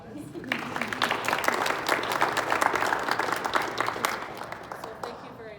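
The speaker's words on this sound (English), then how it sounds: "let's give her a round of applause" A crowd at a community launch event gives a retiring teacher a round of applause, with dense, lively clapping building quickly and holding steady for several seconds.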